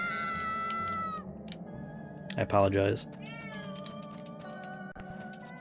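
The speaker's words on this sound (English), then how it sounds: "if you guys hear my cat yelling, he just really wants in the room." A pet cat meows and yowls loudly in a repeated, drawn-out cry, wanting into a room. Between the calls a person speaks briefly nearby.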